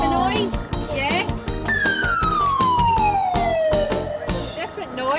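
A toy police van's siren sounds as a long descending wail over a busy, noisy room, with children chattering and playing close by.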